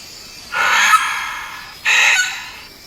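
A Vogelkop bowerbird mimics a sulphur-crested cockatoo, letting out two loud, harsh raspy screeches about a second apart, each held for roughly half a second, heard close and alone.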